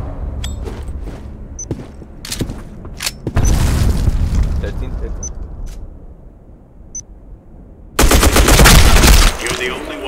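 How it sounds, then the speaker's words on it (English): Grenade blasts and gunfire in the first-person shooter Black Squad during a competitive match: loud booming bursts around the midpoint and again near the end, with scattered sharp shots and game effects between, some voice chat underneath. "Throwing grenade!"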